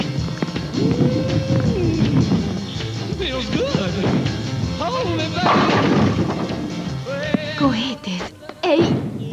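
Fireworks rockets bang and crackle repeatedly, some sharp bursts near the end, while several people talk over them.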